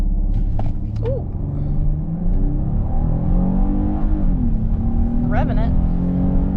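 A 2022 Kia Carnival in sport mode with stability control off, its engine droning steadily as it revs and pulls under acceleration, with voices talking over the sound.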